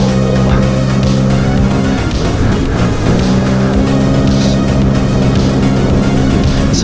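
A Sea-Doo Spark Trixx jet ski runs at speed with a loud, steady engine drone and rushing wind and water noise throughout, close and unbroken.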